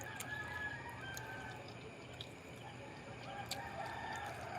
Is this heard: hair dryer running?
no